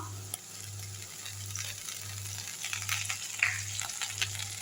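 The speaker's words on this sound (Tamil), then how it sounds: "நல்லா கிண்டி விட்டுருவோம்" Chicken in tomato sauce frying in a pan gives a soft, steady sizzle with light stirring scrapes, under a low, regular pulsing hum.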